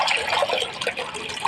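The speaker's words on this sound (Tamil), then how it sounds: "இப்போ சட்டியை அடுப்பில் வச்சுட்டு தேவையான அளவு தண்ணி ஊற்றி" Water is poured into a pan set on the stove, giving a short, steady splashing gurgle.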